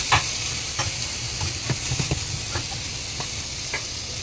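Crab balls sizzle steadily in a hot pan of sautéed aromatics for a squash dish, a dense frying hiss broken by a few sharp clicks and scrapes of stirring, with no talk.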